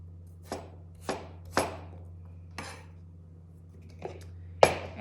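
Jicama being cut into French fry shapes on a board, six sharp knife chops at uneven intervals, close and crisp against a quiet background with a faint hum, no talking.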